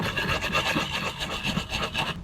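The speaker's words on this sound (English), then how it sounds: "this should be effective method to sharpen it" An axe blade being sharpened with steady rapid rasping strokes, close and continuous, no voices.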